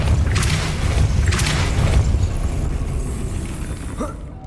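A Depulso spell is cast in the video game Hogwarts Legacy, producing a loud, dense booming rumble with low thumping bursts that fades toward the end, with no voice over it.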